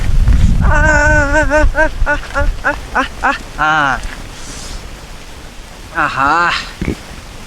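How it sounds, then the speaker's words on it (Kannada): A person talks loudly over a constant broadband roar of heavy rain, with wind-like rushing underneath. "ಅಯ್ಯೋ ಮಳೆ ಸಿಕ್ಕಾಪಟ್ಟಿ ಆತಪ್ಪ ಇದು"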